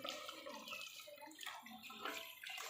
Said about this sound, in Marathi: आता मी त्याच्यामध्ये हे जे वर ताटावर पाणी ठेवलं होतं ते त्याच्यामध्ये ओतणार आहे.